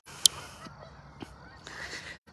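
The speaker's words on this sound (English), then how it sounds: "Do you hear all of the flocks of geese?" Geese honking at a distance on a noisy morning around sunrise, with brief sharp calls that come and go over faint steady ambient hiss.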